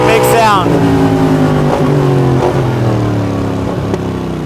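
A Polaris Sportsman High Lifter ATV with an MBRP 5-inch slip-on exhaust roars loudly and continuously at wide open throttle, a deep droning engine note that dips and wavers slightly.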